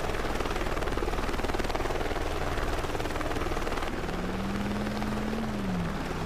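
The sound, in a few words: news helicopter in video game Driver San Francisco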